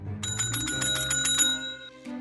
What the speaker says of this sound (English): the same service bell rang from the empty hotel room